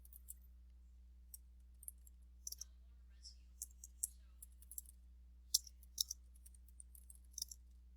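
Light computer keyboard typing for a search query, sparse quiet clicks spread irregularly over a low steady hum, no talking.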